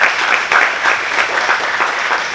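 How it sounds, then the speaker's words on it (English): Audience applause at a Ramadan community iftar, a steady wash of clapping from a crowd held evenly through the short stretch, fairly loud and close with no talk over it. "Please give them a round of applause."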